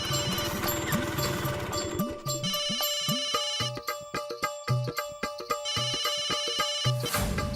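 A loud, melodic electronic ringtone plays on repeat, with bouncy chirping tones and steady pulses that keep going, with no voices.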